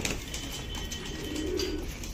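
Pigeons coo softly and continuously over a dense background hum, close by and unbroken.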